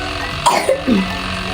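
A child gives a short series of three quick coughs, close and clear, over a quiet steady background hum.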